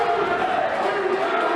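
A wrestling crowd at a match roars in a sustained, dense wash of cheering and shouting that holds steady throughout, with voices blending into one broad noise.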